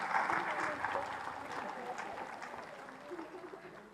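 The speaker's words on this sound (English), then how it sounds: "the students really clap." Students applauding at a regional school conference in Indore, a short burst of dense clapping that is loudest at the start and tapers off, with voices audible underneath.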